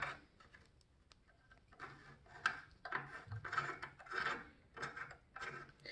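Brake pad on a Xiaomi electric scooter scraping against the disc as the adjusting screw is tightened, giving faint, intermittent raspy rubbing strokes in short bursts, close up with no talking.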